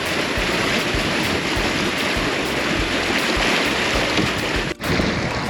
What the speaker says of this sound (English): The water comes from the mountain up there, and they built this aqueduct to divert the water to here